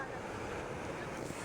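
Strong sea waves surging onto a beach at Playa Pino in Bagac, Bataan, Philippines, a continuous roar of surf mixed with buffeting wind noise on the microphone.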